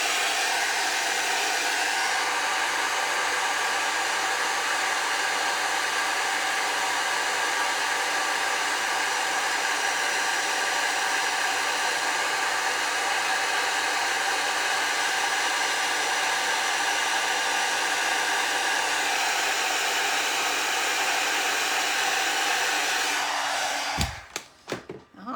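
A handheld heat tool blows a steady, close whooshing stream of hot air over a stamped Christmas card for about twenty-four seconds, then cuts off with a few clunks.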